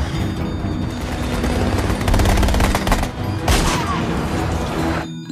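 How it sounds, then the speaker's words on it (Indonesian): A heavy shootout erupts during an attack on a convoy in a gangster film, with loud rapid automatic gunfire, overlapping bursts and a booming impact near the end, all mixed with dense action-scene noise. "Terjadi aksi baku tembak."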